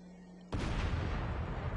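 A thrown grenade in the Crackdown video game bursts with one sudden, loud, booming blast that rumbles and decays over the following second.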